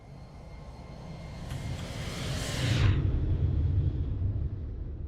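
Aircraft flyby in the X-Plane 12 flight simulator game: an engine drone builds to a whooshing pass near the three-second mark, then settles into a lower steady rumble as the plane moves away.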